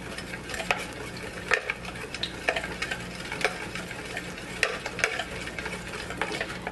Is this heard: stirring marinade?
yes